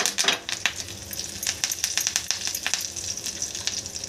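Curry leaves hit hot oil with cumin and chillies in a kadhi tempering, giving a sharp crackling sizzle with irregular pops and spits, close and moderately loud, no voices.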